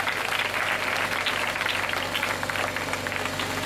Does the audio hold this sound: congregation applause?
yes